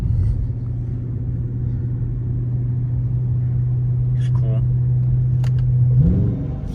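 A Dodge Charger V8 cruising from inside the cabin gives a steady low rumbling drone that holds even, then rises briefly near the end, with a few faint clicks over it.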